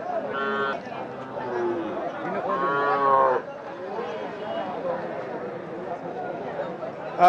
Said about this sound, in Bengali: দেশাল একটি বাছুর